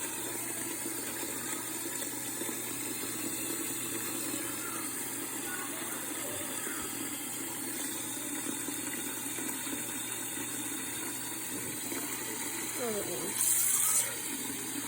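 Water steadily filling a container in a thermal pollution experiment, a constant close rushing and gurgling flow with a brief brighter splash near the end.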